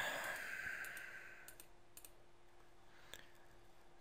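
A few faint, sparse clicks of keys on a computer keyboard as a city name is typed, quiet and close against a soft background hiss.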